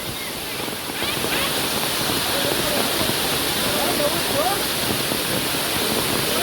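A powerful waterfall pours from above at the Gaumukh temple in Songadh, Gujarat. Its roar is a dense, steady rush that fills the whole stretch, with voices faintly buried beneath it.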